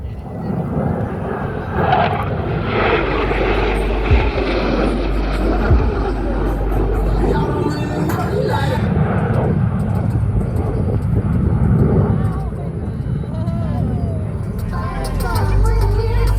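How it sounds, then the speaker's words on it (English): Blue Angels jets 5 and 6 approach the flight line at an air show at about 400 miles per hour, a loud, continuous close roar of jet engines that builds and shifts across the whole stretch. "Blue Angels 5 and 6 are approaching the flight line at 400 miles per hour."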